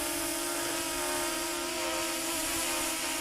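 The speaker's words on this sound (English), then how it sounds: "you can hear from the motor noise that it's fighting that wind quite well" A JJRC X9 Heron drone hovers on a very windy day, its motors giving a steady, dense high-pitched whine with a low tonal hum that holds continuously throughout, fairly close and with no talking.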